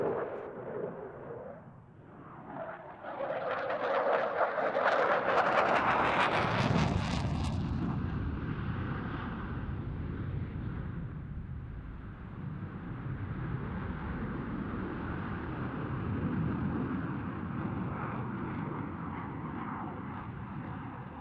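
A German Luftwaffe Eurofighter EF2000 jet from Neuburg flies a solo display at RIAT 2024. Its loud engine roar swells into a sweeping pass, then settles into a sustained, rumbling thunder.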